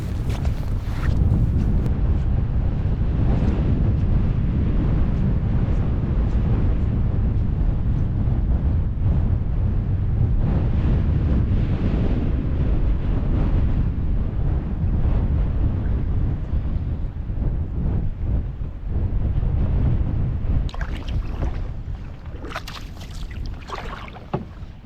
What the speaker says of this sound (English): there's still a good bit of wind behind me